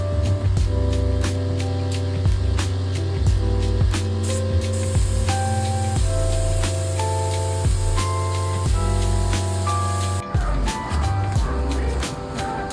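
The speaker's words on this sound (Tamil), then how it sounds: "என்சி பிளாக் அடிச்சுட்டு அதுக்கு மேலே நெக்ஸ்ட் கோட் அடிக்க போகிறோம்" A spray gun lays a coat of black NC paint onto a seat ring, a continuous hissing spray with a steady mechanical hum underneath and small clicks, running close and loud throughout.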